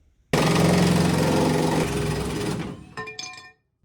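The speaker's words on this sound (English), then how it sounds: "I'm gonna go ahead and pull the 2 bolts that hold that aftermarket hitch bracket off" A loud pneumatic impact wrench rattles steadily for about two seconds, removing bolts from an aftermarket hitch bracket on a Jeep Cherokee, followed by a few short bursts and metallic clinks.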